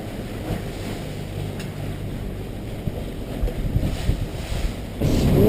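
A sailboat with a double-reefed main and half a jib heads into 15-foot ocean waves in over 20 knots of wind. A continuous roar of wind and rushing water fills the clip and swells louder near the end, with no voices.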